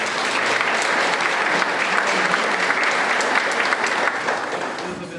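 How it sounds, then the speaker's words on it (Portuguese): A church congregation gives the readers a sustained round of applause, a dense, even clapping from a crowd that fills the room and holds steady throughout. "Uma salva de palmas para eles."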